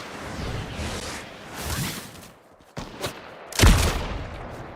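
Sniper rifle shots go off in a video game, with a rushing whoosh, a sharp crack and a heavier booming shot near the end, loud against a noisy game background.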